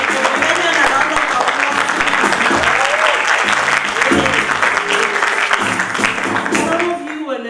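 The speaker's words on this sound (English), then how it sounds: "I think you guys deserve a round of applause first" Sustained audience applause at a district road safety debate competition, a dense, steady wash of many hands clapping throughout, loud and close, tailing off near the end.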